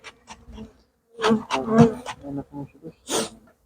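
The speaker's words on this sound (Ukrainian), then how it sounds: "Тут багато бджоли злетіло" Honeybees buzz around an opened hive on a gloomy day, rising and falling in short, uneven bursts with brief silences between them, close and fairly loud.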